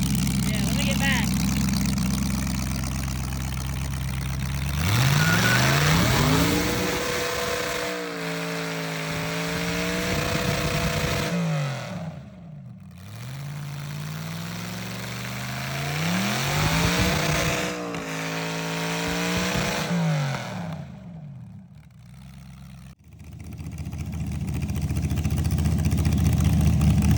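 A work truck with a header-dumped exhaust roars close by, its engine note sweeping upward in repeated pulls as it accelerates through the gears, with brief lulls between them and people talking throughout.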